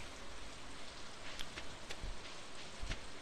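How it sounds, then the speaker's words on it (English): Steady rain hiss from the farming game Stardew Valley, a continuous soft patter with no voices, fairly faint and even throughout. "It's a rainy day."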